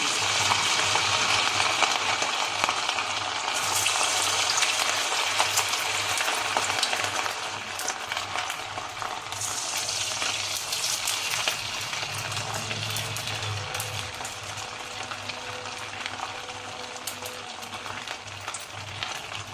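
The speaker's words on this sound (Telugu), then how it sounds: "ఇప్పుడు ఒక్కొక్కటిగా మనము ఆయిల్లో వేస్తాము." Semolina vadas fry in hot oil for Bombay rava crispy vadas, giving a steady, close crackling sizzle that continues throughout with slight shifts in intensity and no voices.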